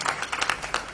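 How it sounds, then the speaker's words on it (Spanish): Applause from a lecture audience, a dense burst of many hands clapping at once, steady and fairly loud for a brief moment. "Y ahora sí, el aplauso para ellos."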